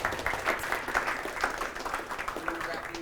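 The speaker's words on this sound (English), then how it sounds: "one more big round of applause for Martin" A small audience at a Haskell user group meetup gives a speaker a final round of applause, a moderate, fairly close patter of clapping that runs throughout with voices talking over it.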